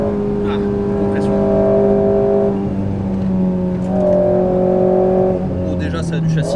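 An Alpine A110 GT4 road car engine drones loud and steady from inside the cabin, pitch rising and falling as it accelerates and shifts, with people talking over it.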